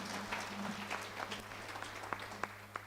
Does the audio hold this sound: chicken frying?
no